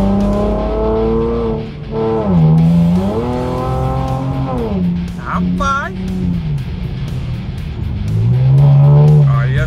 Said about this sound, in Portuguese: É a primeira vez que eu tô pilotando um Camaro.